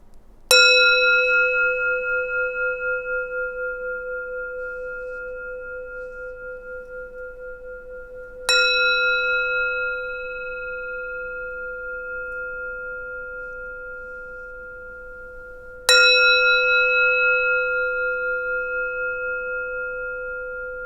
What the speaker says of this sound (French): on va finir par un petit gong pour vous envoyer de belles vibrations.